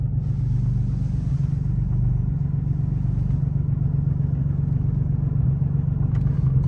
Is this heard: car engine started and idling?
yes